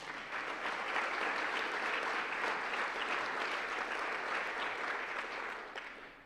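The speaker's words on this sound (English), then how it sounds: "Let's give them an applause." Sustained applause from a banquet audience at a university legacy award dinner, a dense steady wash of many hands clapping throughout before tapering slightly at the end.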